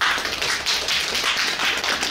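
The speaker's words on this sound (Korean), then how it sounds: "박수 한번 쳐준다" Applause from students at a beauty arts high school in Gyeongbuk, a dense, continuous patter of many hands clapping close by, steady and fairly loud, with no speech over it.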